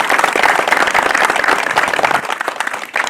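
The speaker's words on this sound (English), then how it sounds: "if we could just have a nice round of applause" A crowd at an outdoor Acushnet Board of Selectmen inaugural ceremony claps steadily in a dense, close round of applause that tapers off slightly toward the end.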